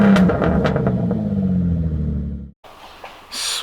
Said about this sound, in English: we have Nick's Q50 here, and we're gonna be burning out some tires